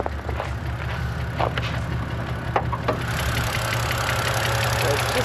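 A BMW engine with noisy hydraulic lifters idles steadily and close by after a lifter bleed procedure, a low continuous hum with faint ticking and some clicks over it.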